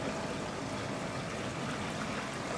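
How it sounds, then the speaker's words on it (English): A waterfall feature at a residential swimming pool flows as a steady, soft rushing of water, continuous and even at a moderate distance. "Can you hear the soothing sound of the waterfall feature?"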